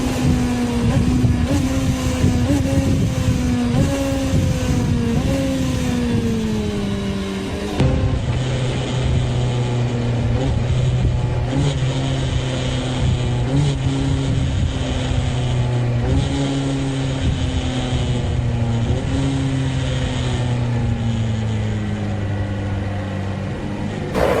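A motorcycle engine drones close and loud, its pitch sliding down, then dropping abruptly as it is downshifted without the clutch and given a throttle blip before running on steadily.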